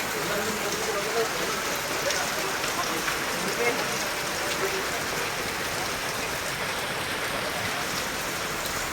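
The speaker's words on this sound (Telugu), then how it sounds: "ఆదివారం సాయంత్రం ఈ దృశ్యం కొల్లాపూర్ పట్టణంలో కనపడుతున్నది భారీ వర్షం" Heavy rain pours down over Kollapur town on a Sunday evening, a dense, unbroken wash of hiss that holds at an even, moderate level throughout.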